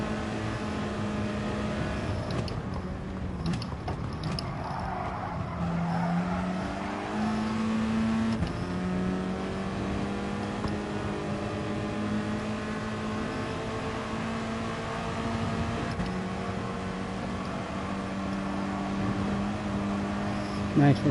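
A race car engine in Gran Turismo Sport holds a steady, droning whine and rises and falls in pitch with shifts through the gears, while a voice talks over it.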